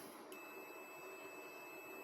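A multimeter gives a steady, continuous continuity beep while probing shorted low-voltage transistors on the board of a MUST PV18-3024 VPM solar inverter. The thin tone is faint but unbroken over a quiet hum.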